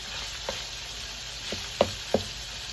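Hamburger meat fries in a pan over turned-up heat, giving a soft, steady sizzle with a few sharp clicks and knocks of utensils against the pan.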